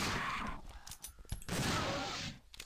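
Rapid bursts of gunfire in the video game Dino Crisis 2, several quick clustered shots with short gaps between, fairly faint and heard without talk.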